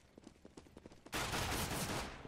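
CS:GO video game gunfire: after quieter scattered clicks, a dense burst of rapid automatic shots erupts and continues loud and sustained to the end.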